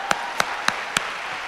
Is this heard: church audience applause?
yes